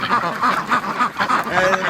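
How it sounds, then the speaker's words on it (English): Several ducks quack repeatedly in a busy pen, a close, loud chorus of overlapping nasal calls in quick irregular bursts with no pause. "There's ducks everywhere in it. You crazy ducks."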